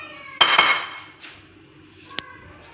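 A metal spoon stirs sugar syrup in a cooking pot, giving a couple of sharp clinks and scrapes near the start and one bright tap later, close and fairly loud, with no voices.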